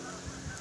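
Geese honking somewhere in the distance, faint bursts over a steady outdoor background hum.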